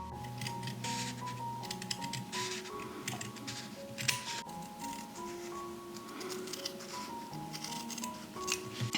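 Scissors cut sewing pattern pieces for a cottagecore doll corset bodice, giving rapid, close snipping and paper-like rustling beneath a continuous layer of soft background music.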